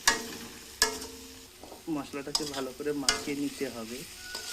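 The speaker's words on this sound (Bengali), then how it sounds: "দিয়ে এবার ভালো করে মশলাটাকে মাখিয়ে নিতে হবে।" Chilli powder, turmeric and salt fried in oil in a pan for tarka dal, stirred with a utensil: close scraping strokes and clinks over a soft sizzle, with a few sharp taps.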